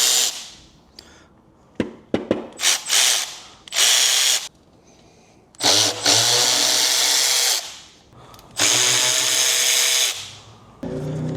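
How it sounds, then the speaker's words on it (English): Crankcase bolts coming out of a 1968 Harley Shovelhead engine with a power tool: loud bursts of whirring and ratcheting, a few sharp clicks, then longer sustained runs separated by short pauses, close up and without talk. "I'm gonna start pulling all the case bolts out."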